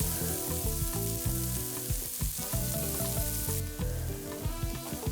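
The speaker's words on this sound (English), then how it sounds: "Fry your onion." A steady, dense sizzle of onion frying in a pan, loud and continuous with busy crackling throughout, heard on its own without any voices.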